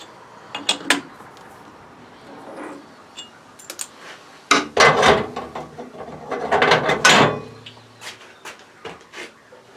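A spanner ratchets during a small repair job, giving bursts of close, loud clicking pawl ticks separated by short pauses and some handling knocks.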